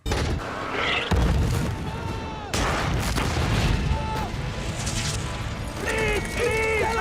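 Loud booming artillery shots from a game ring out repeatedly over a dense battle din, with a voice calling out between blasts.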